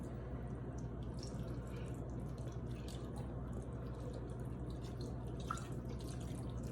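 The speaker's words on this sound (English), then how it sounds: "So I'm just gonna pour it until it's completely covered" Beef broth poured steadily into a pan for oven-baked steak, a continuous close liquid trickle and splash with faint drip-like ticks, no talking.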